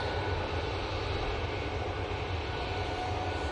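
A Jet2 airliner at Manchester Airport gives a steady, loud engine roar that fills the whole stretch without a break and with no voices over it.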